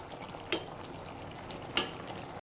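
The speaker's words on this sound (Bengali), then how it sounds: "তেলের বাগার দিয়ে দিলাম।" Hot oil tempering poured over a bottle gourd and shrimp curry sizzles with a steady low crackle, broken by two sharp, brighter hiss bursts as the oil hits. No voices.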